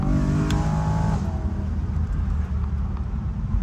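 BMW M3 E93 convertible engine revving as it accelerates: a loud, sustained rising engine note that falls into a steady, close rumble with road roar.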